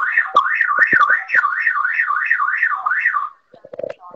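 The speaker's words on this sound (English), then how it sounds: "the glass break sensor went off" A home security glass break sensor alarm sounds a loud, close, rapidly warbling electronic siren that rises and falls steadily for about three seconds before cutting off, followed by a few brief knocks.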